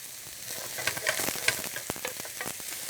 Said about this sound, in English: we're going to toss in some diced eggplant into our saute pan